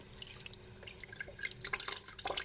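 Tap water runs into lamb intestines in a sink during cleaning, a close, steady trickle with irregular splashy drips and gurgles.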